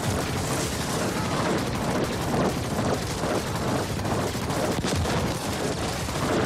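Rapid bursts from a ballistic weapon in The Ascent, a cyberpunk shooter, rattle steadily over dense game noise and mechanical clatter, repeating in short grouped volleys throughout at a constant loud level.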